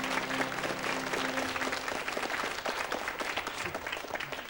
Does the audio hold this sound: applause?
yes